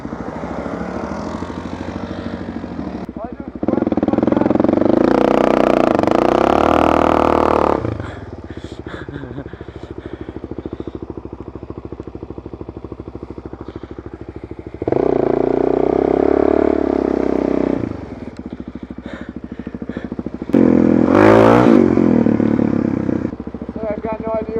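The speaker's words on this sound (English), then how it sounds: "The exhaust sounds amazing." A motorcycle engine and exhaust while riding in the rain, with loud bursts of acceleration that rise and drop back to a lower idle-like drone, heard alongside voices talking.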